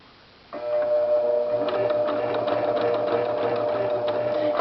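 A sewing machine stitches through layers of cargo pants fabric, running steadily and loudly after a brief quiet start, with a continuous motor hum and rapid needle clatter throughout.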